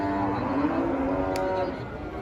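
A cow moos in one long, low, drawn-out call among cattle brought to a livestock market in Payakumbuh for Eid al-Adha sacrifice, set against steady market background noise.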